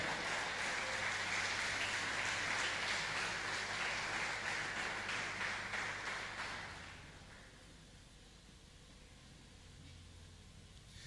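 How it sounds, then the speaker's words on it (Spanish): A church congregation gives the Lord a strong round of applause, dense sustained clapping for about seven seconds that then fades out, leaving quiet room noise. "Un fuerte aplauso al Señor y a su palabra."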